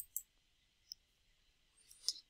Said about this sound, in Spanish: Después le voy a dar clic en Create New Project.